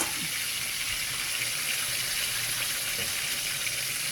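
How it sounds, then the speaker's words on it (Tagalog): Water streams steadily into a cooking pot holding chicken, a continuous hissing rush, close and moderately loud throughout. "lagyan natin ng tubig"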